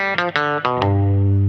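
Electric guitar picked near the bridge plays a short run of five bright, twangy notes in a rockabilly style, ending on a sustained low note, loud and close with no voices.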